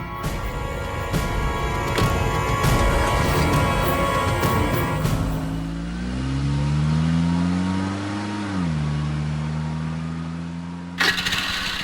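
A motorbike engine revs loudly and steadily, its pitch rising and falling, then cuts off near the end, heard up close with no talking.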